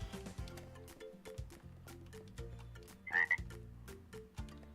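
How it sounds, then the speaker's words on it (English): A tree frog croaks in the Minecraft video game with the Zoo and Wild Animals mod: a single short, nearby croak sounding over a steady backdrop of quiet music with plucked notes, with no talk. "There's a tree frog."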